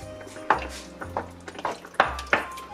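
A spoon or wooden spatula scrapes and clinks against a pot as tomato paste goes into a vegan puttanesca sauce, giving a handful of sharp taps and scrapes spaced about a second apart, close and moderately loud.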